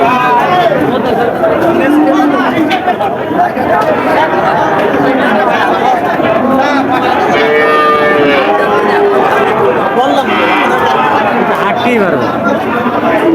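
Cattle moo and low repeatedly amid a noisy crowd of chattering people at a livestock market, loud and close, with voices overlapping throughout.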